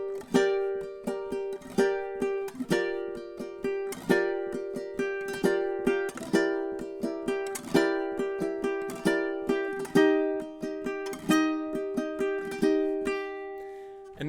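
A ukulele is strummed through an etude pattern in a steady, even rhythm of repeated chords with crisp strokes, close and clear, with no talking.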